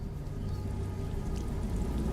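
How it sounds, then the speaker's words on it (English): Steady rain in a video game world, a dense continuous hiss and patter heard close and fairly loud, with a low rumbling wash beneath and no distinct breaks. "Oh, and it's raining."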